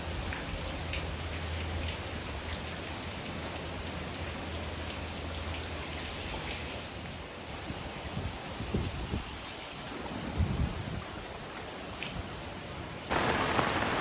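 Heavy rain pours down steadily over a flooded village near a temple, a dense, continuous hiss of drops on surfaces that stays loud throughout and swells further near the end.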